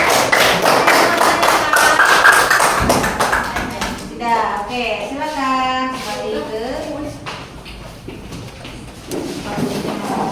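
A classroom group of students claps for a presenting group in an English lesson, a dense burst of hand claps for about three seconds that fades as talking takes over.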